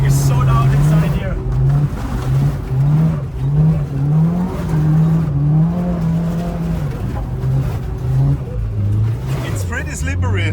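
A Mitsubishi EVO V RS with its turbo engine pulling hard, heard loud from inside the cabin as the revs climb and dip through gear changes, with a voice talking over the steady roar.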